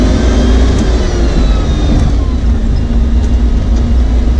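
Steady, loud low engine rumble from a Land Rover 101 while driving, with continuous road and drivetrain noise heard from inside the cab and no talking.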